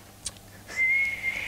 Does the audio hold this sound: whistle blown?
yes